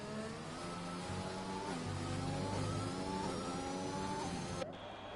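Formula 1 car engine in the F1 2021 game at Spain screaming as it accelerates down the start-finish straight, high revs climbing through gears, loud and steady for about five seconds before cutting off abruptly.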